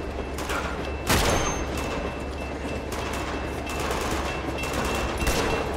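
Gunfire from the Uncharted 2 video game during a train level, a continuous dense barrage of shots with a sharper burst near the start, loud over a steady rumbling background with no talk.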